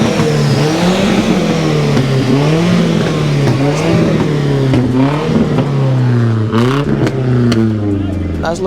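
A car engine with Honda VTEC revs hard at a street car meet in Atlanta, its pitch climbing and falling in repeated loud pulls close by, with people talking over it.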